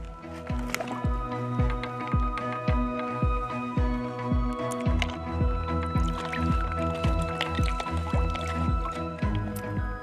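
Water sample being drawn from a marsh, with a steady series of sloshing, gurgling splashes repeating roughly every half second, close and fairly loud throughout.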